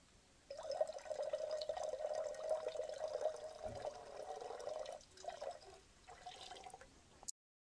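Water being poured into a container and mixed with soap, a steady near splashing trickle that runs for several seconds, wavers, then stops with a small clunk.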